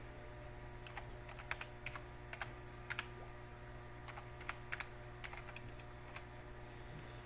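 Computer keyboard typing an ally code into chat for Star Wars: Galaxy of Heroes: light, irregular key clicks in small clusters over a steady electrical hum, faint and close, no talking.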